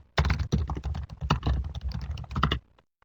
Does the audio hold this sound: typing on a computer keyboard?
yes